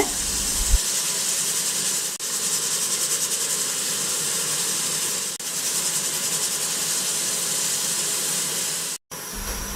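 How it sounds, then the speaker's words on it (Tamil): A steady bubbling hiss of a pot of Indian kuzhambu curry simmering on a stove over medium heat, continuous and fairly loud, with a brief dropout near the end. "ஸ்டவ்வை கொஞ்சம் மிதமான தீயில வச்சு நல்லா கொதிக்கணும்"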